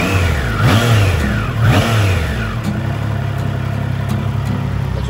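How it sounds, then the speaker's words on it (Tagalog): A 2025 Triumph Trident 660 motorcycle engine revs twice, rising and falling in quick bursts, then settles into a steady idle. The bike is close and loud, with no talking. "Pwede na tayo mag-rev."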